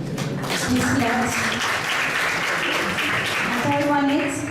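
A seminar audience claps for a student while a voice talks over the applause, the clapping steady and fairly loud across the whole stretch.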